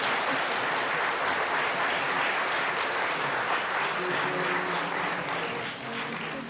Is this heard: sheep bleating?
no